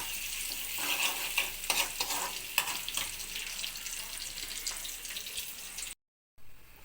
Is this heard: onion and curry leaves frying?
yes